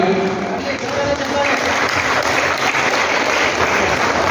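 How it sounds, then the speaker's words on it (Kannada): Loud, continuous applause from an audience at a college welcome function, a dense wash of clapping that holds steady throughout. "ನಿಮ್ಮ ಚಪ್ಪಾಳೆ ಸಾಕಾಗ್ತಿಲ್ಲ"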